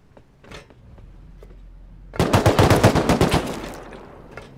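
Automatic gunfire in the survival video game Rust, a loud rapid burst of about a dozen shots after a few faint distant pops, close and alone with no talk.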